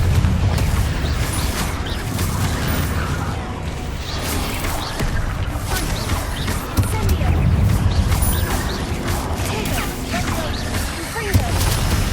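Confringo blasting spells explode again and again in Hogwarts Legacy, giving loud booms, crashes and whooshing bursts over a dense battle din. A voice speaks among the blasts.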